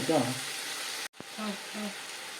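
Raw banana curry sautés in a pan with a continuous sizzle, a short dropout and a sharp click midway, and faint voice-like tones mixed in.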